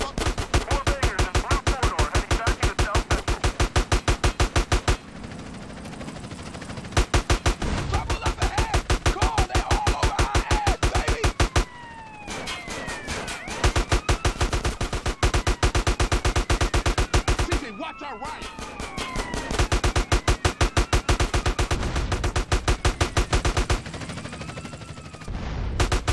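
Rapid automatic gunfire from the video game GTA San Andreas rattles in long, loud continuous bursts separated by short pauses, with game voices and effects underneath.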